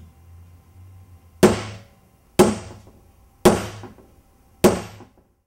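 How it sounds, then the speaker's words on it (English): Four sharp metallic hammer strikes on a tungsten ring held in grip pliers, evenly spaced about a second apart, each ringing briefly before fading, close and loud over a low background hum. "Give it a few whacks with a hammer and see what happens."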